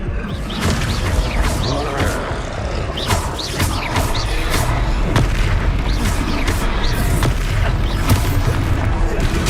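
Descendo spell impacts boom repeatedly in the Hogwarts Legacy video game as a series of loud, heavy thuds with whooshing swishes amid constant combat noise, while voices call out in between.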